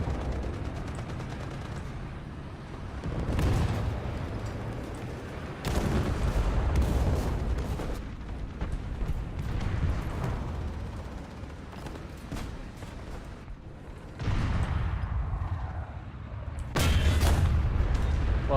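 Cannon blasts and explosions in a vehicle combat video game, several heavy booming hits spaced out over a steady mechanical engine and track clatter, loud and without talk.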